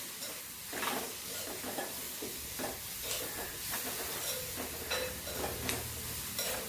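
Brinjal stir-fry with crushed chilli sizzles steadily in a small iron pan, a constant close frying hiss broken by repeated scraping strokes as it is stirred, with no talk.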